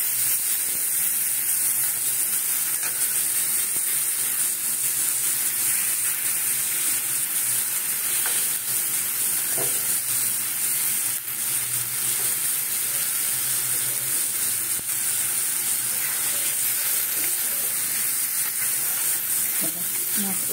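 Mushrooms for chilli mushroom fry in a pan, giving a steady, close sizzle and hiss that holds at an even level throughout.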